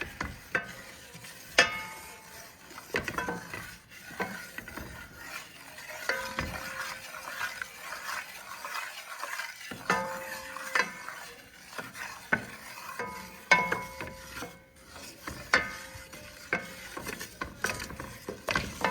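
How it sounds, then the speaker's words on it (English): A spoon scrapes and clicks around a pot of roux, with soft irregular strokes, occasional sharper taps against the metal and a faint sizzle underneath, quiet and steady throughout. "Just to keep stirring and stirring."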